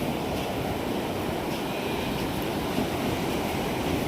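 Rushing water at a riverside mixed with wind buffeting, a steady broadband roar that stays loud and unchanging throughout with no voices.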